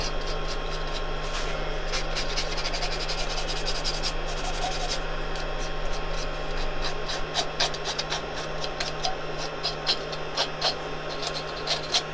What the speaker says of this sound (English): You can take as much time as you want with the sanding of your petal and stuff like that.